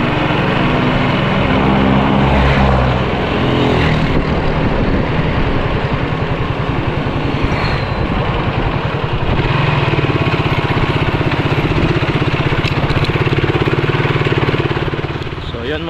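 An engine drives a water pump to irrigate rice paddies, running loud and steady with a rough, chugging rumble that holds for the whole stretch while someone talks over it.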